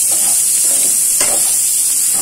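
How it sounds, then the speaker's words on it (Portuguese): Calabresa sausage fries in a pan for a home macaroni lunch, giving a steady close sizzle and crackle with a soft stir or scrape near the middle, no voices. "Tô fritando aqui a calabresa."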